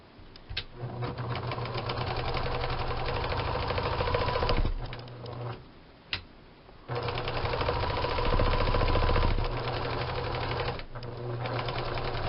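A sewing machine runs in bursts, zigzag stitching around ribbons for a tussie mussie, its rapid mechanical chatter close and steady, with a few short pauses between runs.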